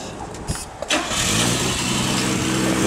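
A convertible car's engine is started: a few clicks and a brief cranking whir give way to a steady, close idle that continues to the end.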